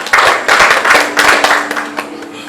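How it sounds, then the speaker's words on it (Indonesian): Church congregation clapping in applause during a service, a loud burst of many hands in rhythmic waves that fades toward the end. "Tepuk tangan bagi Tuhan."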